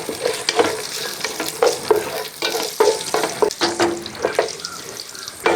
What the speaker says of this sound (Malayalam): ഈ എണ്ണ ചൂടായതിനു ശേഷം അതിൻ്റെ അകത്തോട്ട് ഇട്ട് കൊടുക്കുക ഇളക്കി